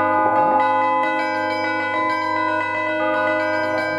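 A large bell tolls the hour at a temple-like monastery setting, its sustained ringing harmonics filling the whole stretch with repeated strikes and a steady, loud resonance and no talking.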